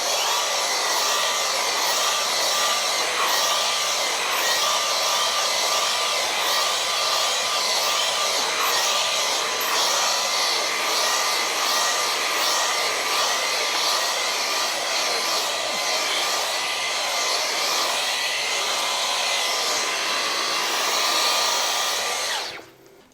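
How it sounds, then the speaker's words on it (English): Steady high-pitched whine of a Dyson V15 cordless vacuum's small motorized tool cleaning car floor mats, running continuously at close range, then cutting off at the end. "This is one of the small motorized tools that come with the Dyson V15 vacuum."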